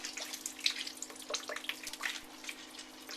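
Cooked spinach for non-spicy Korean-style kimchi squeezed by hand, giving soft wet squishing and trickling water in short bursts, close and quiet.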